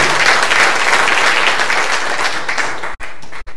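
A large crowd claps loudly and continuously in a sermon setting, a dense wash of applause that cuts out abruptly with brief dropouts near the end.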